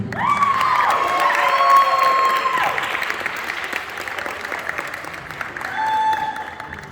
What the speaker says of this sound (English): one more time, a round of applause for our class of 2023